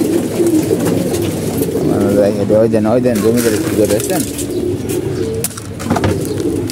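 Pigeons coo repeatedly at close range while feeding on grain, their soft rolling calls overlapping someone talking steadily throughout.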